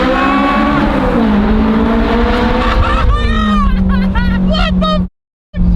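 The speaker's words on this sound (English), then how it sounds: "this is the best sounding four-cylinder Honda in the world" A Honda S2000's naturally aspirated four-cylinder engine revs loud and close, holding a steady drone before rising through several sharp climbs, with a voice speaking over it and a brief cut to silence near the end.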